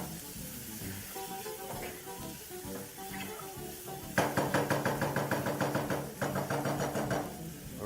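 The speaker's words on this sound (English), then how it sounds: "we're just going to go in and add our potatoes. And we're just going to saute that a little more." Potatoes and garlic sautéing in a pan, heard as a faint background sizzle that turns into a louder, busy crackling with rapid knocks of stirring in the second half, with no talk over it.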